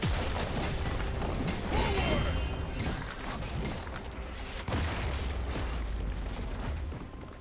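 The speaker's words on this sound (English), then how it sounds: "Blue team's turret has been destroyed." A turret being destroyed in a League of Legends match: a grinding, mechanical crumble with booming bursts, then a second heavy impact partway through, fairly loud and sustained.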